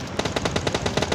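Rapid automatic gunfire in PUBG Mobile Lite, a steady burst of about a dozen evenly spaced loud shots with no pauses, close and dominant with no talk over it.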